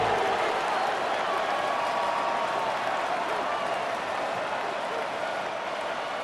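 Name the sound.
stadium crowd noise in the video game Madden 26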